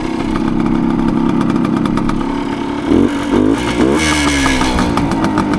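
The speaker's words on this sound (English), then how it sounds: "Even revving it up, it's not terribly loud." A 1975 Suzuki TS125 dirt bike engine runs close by with a steady idle, then revs up in several quick rising bursts and settles into a higher, buzzing drone.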